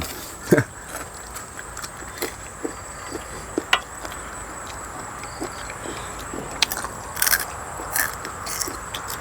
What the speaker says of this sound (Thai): ใส่ทั้งหนวดปลาหมึกกรุบ